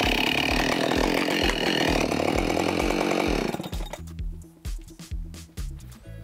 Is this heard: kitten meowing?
no